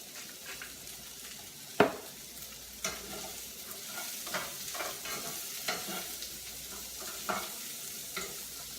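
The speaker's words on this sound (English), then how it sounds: "Kind of let the Brussels sit on the bottom of the pan so they can get browned and look really nice and caramelized." Brussels sprouts with jalapeño frying in a pan, a continuous close sizzle broken by intermittent stirring scrapes and one sharper clatter early on, with no voices.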